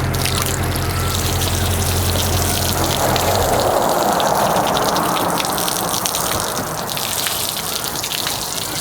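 Steady broadband water spray rinses soap from a car's paint, a loud continuous gush running the whole length with a low pump-like hum near the start and no talking.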